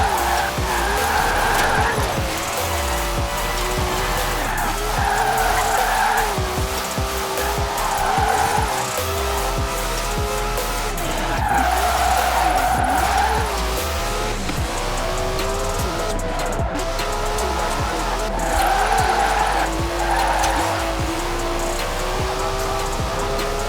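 Tyres squeal and skid in Forza Horizon 4 in repeated long screeching waves over a steady engine drone, loud and continuous, with pitch sliding as the car drifts.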